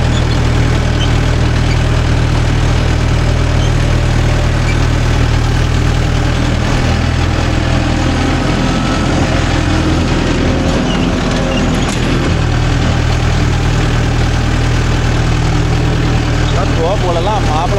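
A Mahindra Yuvo Tech Plus 585 4WD tractor pulling a 42-blade rotavator, its engine a loud, close, steady heavy drone with constant low vibration, and a voice talking over it.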